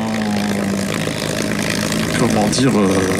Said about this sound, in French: Le P2 là-bas se présente à l'atterrissage.